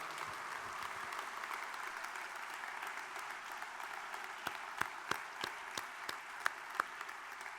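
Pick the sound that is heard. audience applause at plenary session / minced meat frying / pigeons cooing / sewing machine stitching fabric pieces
audience applause at plenary session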